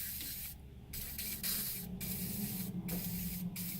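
Short hissing bursts of spray cleaner, such as WD-40, hit crud-covered carburetor engine parts, several close aerosol blasts separated by brief pauses.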